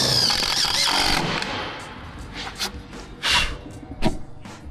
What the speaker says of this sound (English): the screws. I'm going through 18mm ply and 2mm steel.